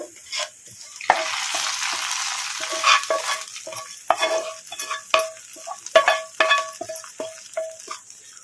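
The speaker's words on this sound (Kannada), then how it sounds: "ಈಗ ಒಗ್ಗರಣೆ ಹಾಕ್ಕೊಂಬಿಡೋಣ" Spices sizzle sharply in hot oil as tempering is added, a bright crackling hiss with bursts and pops, a spoon scraping in between.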